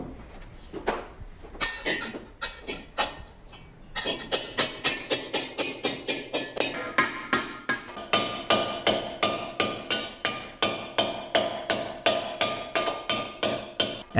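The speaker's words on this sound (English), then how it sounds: "Johannes then uses the rear edge of the hammer to carry out the shrinking process." A hammer's rear edge strikes a copper sheet being shrunk by hand in traditional German metalwork, a close, sharp metallic tapping in steady, regular rhythm, slower and sparser at first, then quick and even.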